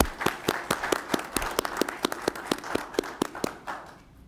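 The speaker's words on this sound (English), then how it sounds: "Please join me in a round of applause welcoming the graduates to the room." Applause for bus operator graduates at a graduation ceremony, heard as a steady run of sharp, evenly spaced claps, fairly close and moderately loud, tapering off toward the end with no talking.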